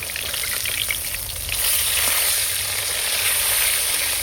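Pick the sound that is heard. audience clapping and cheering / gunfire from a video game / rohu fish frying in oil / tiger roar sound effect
rohu fish frying in oil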